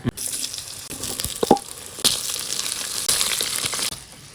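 Ridge gourd frying in hot oil in a clay pot with fennel, bay leaf and curry leaves, giving a steady broadband sizzle with a few louder bursts as pieces are stirred, no talking.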